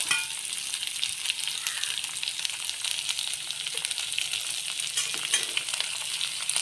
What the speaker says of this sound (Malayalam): ആ എണ്ണയിൽ തന്നെ ജീരകവും ചെറുള്ളിയും കറിവേപ്പിലയും പച്ചമുളകും വറുത്ത് കോരാം